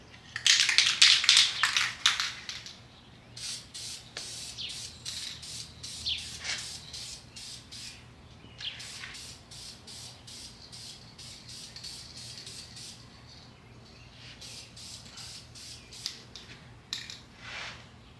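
Bursts of aerosol spray paint hissing onto an S-curve piece, several short spurts of varying length separated by brief pauses, close and fairly loud, with no talking.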